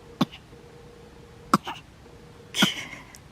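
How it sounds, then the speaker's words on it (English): An infant fake-coughing at a family campsite, three short separate coughs spaced about a second apart, close and fairly quiet over faint outdoor background. "She started doing that thing again where she like fake coughs"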